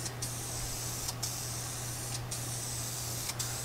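A light coat of spray is applied to Ford Falcon floor pans: a steady close hiss with brief stronger pulses every second or so, over a low constant hum, with no talking.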